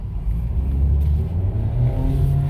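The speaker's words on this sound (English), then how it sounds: "See, you hear it, it revs up and then it goes." 2020 Ford EcoSport SES 4WD engine revving and droning as the vehicle accelerates, a steady close low rumble heard from inside the cabin with no talking.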